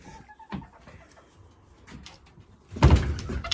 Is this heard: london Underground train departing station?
no